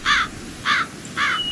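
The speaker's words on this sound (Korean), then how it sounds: "그 새는 검은 까마귀고 너만큼 크단다" A black crow gives three loud, harsh caws, evenly spaced about half a second apart. The calls are close and clear over a faint background hiss.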